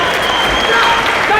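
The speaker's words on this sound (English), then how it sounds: "The crowd firmly pushing these two fighters on" A dense, roaring crowd at a Karate Combat championship bout, loud and sustained with cheering and clapping blended together, a commentator's voice running over it.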